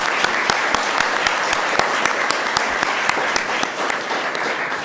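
A crowd applauds steadily, dense clapping sustained throughout with a few sharper individual claps standing out.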